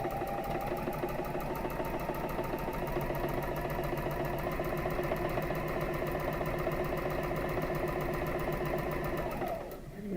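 A sewing machine stitches quilt pieces together in a foundation paper piecing project, running in a fast, even mechanical chatter for about ten seconds before slowing and stopping, close and steady with no talking.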